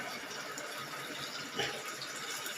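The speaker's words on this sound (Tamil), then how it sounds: "இப்போ இந்த காய்க்கு தேவையான தண்ணி விட்டுக்கலாம்" Water poured into a pot of radish sambar while cooking, a soft, steady rushing pour that runs throughout at low volume.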